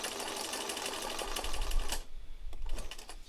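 Sewing machine stitching a fabric sunflower petal, a steady rapid whir for about two seconds that stops, then a few short mechanical clicks and bursts close by.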